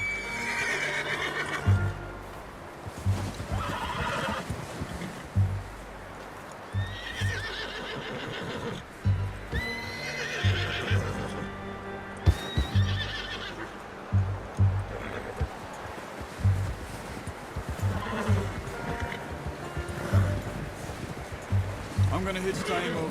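A horse in Red Dead Redemption 2 whinnies and neighs several times over clip-clopping hooves, heard close under ongoing conversation and ambient music.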